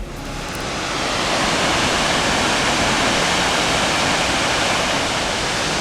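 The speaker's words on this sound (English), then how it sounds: "let's go check out the waterfall" An Icelandic waterfall roaring as a dense, constant wash of falling water, loud and steady throughout with no voices.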